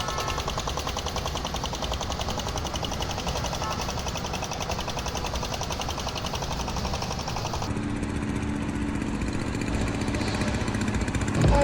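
A tractor engine runs steadily and loudly, a rough mechanical chugging that is close and continuous throughout. Partway through the tone shifts as if the engine load or position changes, and no one speaks.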